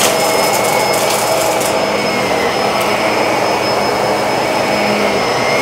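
A Bissell SurfaceSense Allergen Lift-Off Pet upright vacuum cleaner runs loudly and steadily up close, a constant whooshing motor roar with a high whine.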